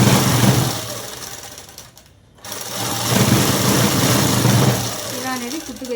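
Sewing machine stitching a pair of cut work pants, a steady close mechanical whir that drops out briefly midway before running on again, with some background noise underneath.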